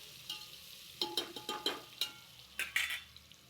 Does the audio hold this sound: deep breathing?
no